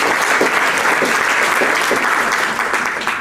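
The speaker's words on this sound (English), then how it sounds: "Can you applaud the NGOs that are here?" An audience at a provincial education engagement applauds the NGOs present, a loud, steady burst of many hands clapping that fades slightly toward the end.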